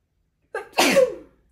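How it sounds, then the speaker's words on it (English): One close, loud human sneeze indoors, a brief intake followed by a sharp burst that fades quickly, with silence before it. "I'm gonna sneeze, I think."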